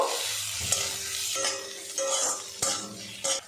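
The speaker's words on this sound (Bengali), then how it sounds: "এর মধ্যে দিয়ে দেবো পেঁয়াজ কুচি পেঁয়াজটা লাল লাল করে ভেজে নেব" Chopped onion goes into hot oil already flavoured with nigella seeds and fries with a steady sizzle, broken by a few close spoon scrapes and clinks against the pan.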